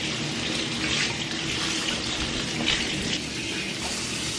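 Hands being rinsed under a running tap, with a steady hiss of flowing water splashing into a sink for several seconds, fairly quiet and with no talking.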